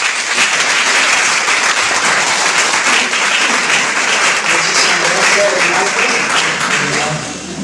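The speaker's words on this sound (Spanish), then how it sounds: "yo pienso que un aplauso" An audience gives sustained, loud applause at a talk, steady dense clapping that continues throughout and fades slightly at the end.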